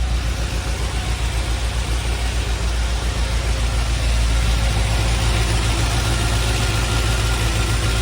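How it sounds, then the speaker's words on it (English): A 1973 Opel GT idles steadily after a cold start, its engine running on fast idle with a constant low, even drone and no speech over it. "Cold start on the 73 Opel."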